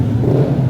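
A motorcycle engine revs at a motocross race, a loud, close, steady droning roar in a short burst.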